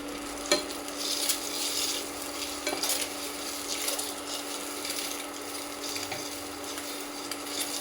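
Two eggs fry in a pan while being stirred, a continuous bright sizzle with scraping strokes of the spoon at intervals, close and steady with no talking.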